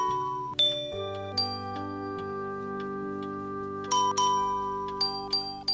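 Bells ring out in a melodic sequence within a Snow Queen fairy-tale story, with several bright struck tones layered over sustained, ringing chime notes that overlap and decay steadily throughout.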